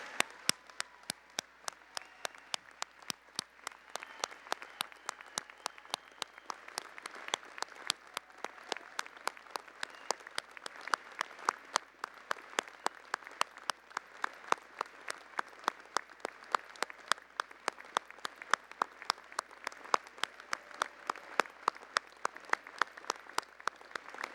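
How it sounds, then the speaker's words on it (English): A large convocation audience gives sustained applause for their supporters, a continuous dense clapping crowd with some sharper individual claps standing out, steady and fairly loud for the whole stretch. "give a huge round of applause to those who supported you"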